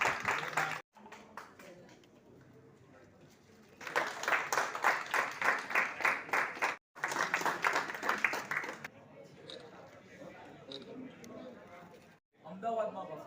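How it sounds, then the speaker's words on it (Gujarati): Audience clapping at a Lions Club of Ahmedabad free medical check-up camp, two strong bursts of applause from a gathered crowd, set between stretches of a speaker's voice addressing the room. "સૌ તાળીઓથી વધાવી લઈએ"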